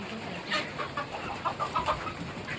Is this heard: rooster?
yes